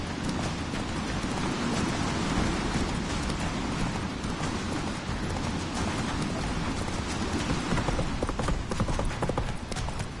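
Roach, Geralt's horse in The Witcher 3, gallops in a game chase scene, a dense continuous patter of hoofbeats under loud ambient noise, steady and close throughout with no pause.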